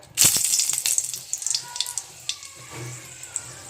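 Dried red chillies sizzle and crackle in hot mustard oil, with bright, busy frying hiss and sharp pops near the start that thin out into scattered crackles, close and moderately loud.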